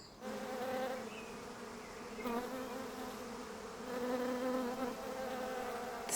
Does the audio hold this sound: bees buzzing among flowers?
yes